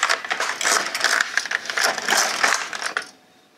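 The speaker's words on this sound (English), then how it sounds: "And now we knit 2 rows." Carriage of an LK150 knitting machine pushed across for two rows, a loud close run of clattering, ratcheting mechanical rasps that ends abruptly.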